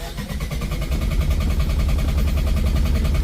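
A Mitsubishi L300FB Euro4 2024 diesel engine cranks and catches after running out of fuel, a close, loud, rhythmic chugging that settles into a steady idle.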